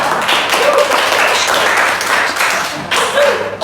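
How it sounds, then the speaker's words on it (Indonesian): A class of about 21 students claps in a dense, steady burst of applause that fills the room, with a brief dip and a renewed swell near the end. "Berikan aplaus."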